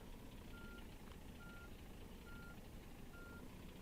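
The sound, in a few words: truck reversing in the video game On The Road Truck Simulator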